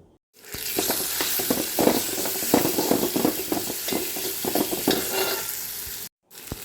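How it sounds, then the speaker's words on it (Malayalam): Tomatoes stirred into sautéed onions in a pan for a green peas masala, repeated scraping spoon strokes over a steady sizzle, close and moderately loud, ending abruptly. "തക്കാളി ഇട്ട് നന്നായിട്ടൊന്ന് ഇളക്കി കൊടുക്കാം"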